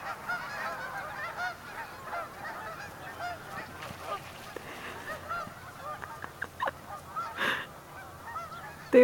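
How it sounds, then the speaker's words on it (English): Ducks keep up a busy, honking chorus close by, with the calls rising and falling and a few sharper knocks near the end. "Uh-oh, the ducks are making sounds."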